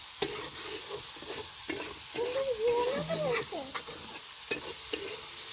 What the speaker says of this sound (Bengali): দেখো মশলাটা ভাজা ভাজা হয়ে গেছে তেলটা উপরে চলে আসতেছে